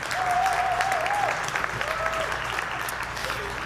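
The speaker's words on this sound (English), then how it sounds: "Do you know that clapping is a form of praise?" Steady applause from a crowd fills the clip, dense and continuous, with a faint tonal line drifting above it.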